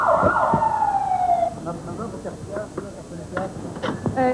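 An ambulance siren wails loudly for over a second, then fades behind a voice talking over the rest.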